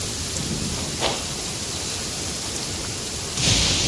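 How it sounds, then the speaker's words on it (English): Steady game rain hisses evenly throughout, with a low rumble of thunder building near the end, no speech over it. "Let us find shelter from the rain."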